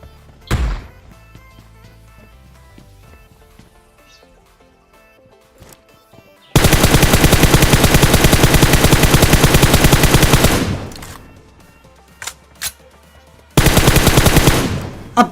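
Automatic gunfire from a red-dot-sighted gun in PUBG Mobile, loud sustained bursts of rapid shots, one long burst of about four seconds and a later shorter burst, separated by quieter in-game ambience and a few isolated single shots.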